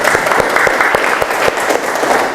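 Classroom applause from a group of students, a burst of rapid, evenly paced clapping that stays loud and dense for the whole couple of seconds.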